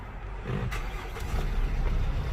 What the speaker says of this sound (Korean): 자 엔진 소리 좋고요